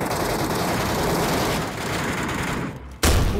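Dense automatic gunfire from PUBG Metro Royale rattles loudly and almost continuously, dipping briefly before a sharp heavy blast near the end.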